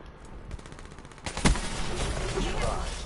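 Rapid automatic gunfire in a multiplayer first-person shooter, a dense burst of repeated shots with one sharp loud crack near the middle, followed by continuing rattling fire.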